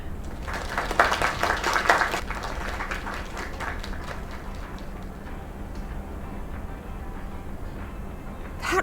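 Applause from a small gathering in the video game Lake, dense for about two seconds, then thinning to scattered, faint claps over a quiet room ambience.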